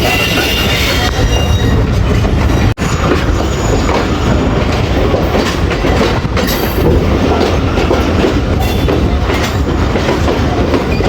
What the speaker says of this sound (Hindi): 25 मिनट डिले के साथ हमारी 14 डाउन अवाम एक्सप्रेस रावलपिंडी रेलवे स्टेशन पे अप्रोच बना रही है।